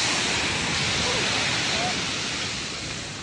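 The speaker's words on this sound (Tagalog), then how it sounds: "Patikim na ito ng storm surge o daluyong habang papalapit ang Super Typhoon Pepito." Storm surge waves pound the shore at Virac, Catanduanes as Super Typhoon Pepito approaches, a dense, continuous roar of surf and wind that stays loud throughout and eases slightly toward the end.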